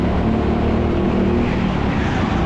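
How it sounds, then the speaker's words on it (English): Go-kart engines roar loud and steady on an indoor TeamSport track in Sheffield, a dense continuous drone from the pack close around, with no talking. "I've caught up with the next group of karts"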